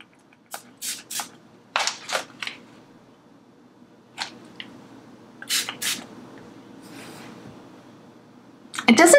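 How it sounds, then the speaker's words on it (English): A face and pillow mist sprays in several short, hissing bursts, mostly in quick pairs, close to the microphone in a quiet room. "You can spray your sheets and pillow, or you can actually spray your face"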